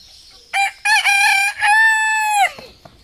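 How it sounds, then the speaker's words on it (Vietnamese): Rooster crowing at a zoo, loud and close, with a few short clipped notes leading into one long drawn-out crow that ends abruptly, then quiet. "Gà kìa, lâu quá rồi mới gặp được gà cả nhà."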